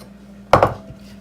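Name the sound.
onions and apples dropped into a slow cooker crock pot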